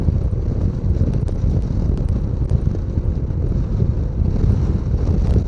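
Strong wind buffets the microphone during a motor scooter ride near Taal Basilica, a constant low roar with gusty rumbling, loud and unbroken throughout.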